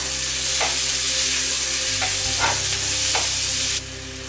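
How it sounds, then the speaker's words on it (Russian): Onions fry with paprika in a pan, a steady close sizzle running throughout, with a few soft stirring scrapes and a slight drop in level near the end. "В обжаренный лук добавляю паприку."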